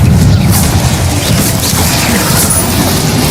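Blasts from the Confringo spell in Hogwarts Legacy rumble in a heavy, unbroken roar of booms and crashing impacts, loud throughout, with no talking.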